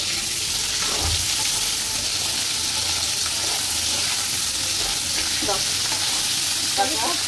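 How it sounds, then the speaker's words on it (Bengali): Mutton cooking on a stovetop burner sizzles and fries steadily throughout, loud and close, with faint stirring scrapes over the continuous hiss and no clear speech. "পাশের চুলায় হচ্ছে খাসির মাংস রান্না হচ্ছে।"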